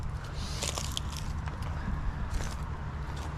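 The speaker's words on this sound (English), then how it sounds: "They're chewing the hell out of this building." Insects gnaw at the wood of a building, giving faint, close crackling and scraping clicks over a low background hum.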